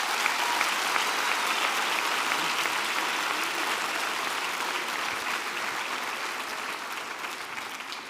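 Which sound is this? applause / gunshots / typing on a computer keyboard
applause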